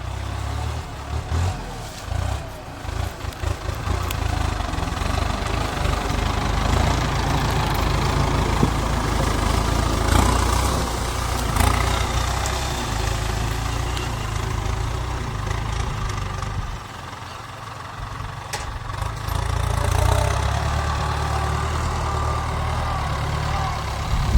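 A heavy farm tractor engine idles steadily for the whole stretch, a loud low rumble with slight dips in level, with no talking.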